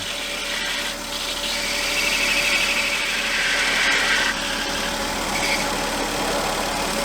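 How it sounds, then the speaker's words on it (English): A 2006 Volvo S80 T6 with the 2.9-litre B6294T engine runs steadily while the bottom of a side cover rubs on the harmonic balancer, giving a continuous close hum with a faint scraping whine swelling in the middle. "It's the bottom of the side cover that's rubbing on the harmonic balancer."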